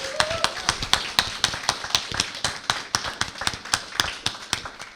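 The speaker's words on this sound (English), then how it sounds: "so give her another round of applause" A small group claps for a guest at an evening podcast event, with distinct, fairly close handclaps in a quick, uneven rhythm that continue steadily throughout.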